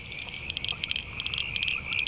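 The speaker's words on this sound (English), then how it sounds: "The area surrounding the plant was once home to the growling grass frog." Frogs call from a wetland, a rapid pulsed trilling chorus repeating in short bursts over a steady high drone, moderately close and alone without voices.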